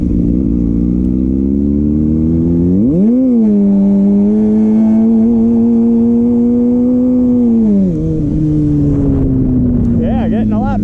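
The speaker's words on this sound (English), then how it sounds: "getting a lot better with the rolling burnouts." Kawasaki ZX6R motorcycle doing rolling burnouts, its engine droning loudly and steadily, climbing sharply in revs early on, holding a high pitch, then dropping back down.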